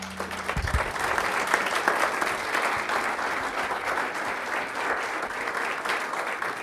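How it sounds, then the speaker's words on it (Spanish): Applause from a church congregation fills the space steadily and loudly, a dense wash of many hands clapping at an even level throughout, with a brief low tone at the very start. "Yo le daré un aplauso al Señor."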